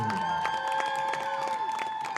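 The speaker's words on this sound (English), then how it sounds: "Fans, give a loud round of applause for your Class 1A state champions" Crowd applause and cheering for state champions at a high school football game, under loud sustained tones and a droning hum, with claps pulsing throughout.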